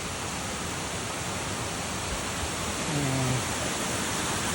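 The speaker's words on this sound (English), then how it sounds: "This is my friend stream here. It's been making lots of noise. Nice waterfall." Steady broadband rush of a mountain stream and waterfall on Mt Washington's Ammonoosuc trail, loud and continuous, filling the whole clip with no pauses.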